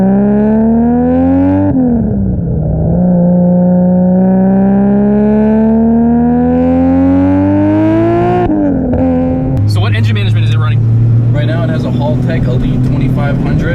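A modified Toyota Supra engine running about 20 psi of boost on pump gas idles and revs in steady harmonic drones that rise in pitch, then a rougher, louder burst with hiss near the end; loud and close throughout.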